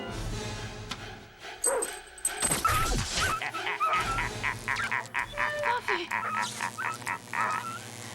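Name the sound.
dog whimpering and barking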